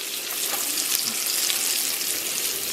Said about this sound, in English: Let's throw in the garlic.